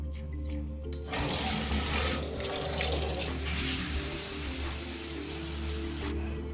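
Water runs from a shower in a steady rushing hiss that starts abruptly after a moment of quiet and continues close and loud without talk.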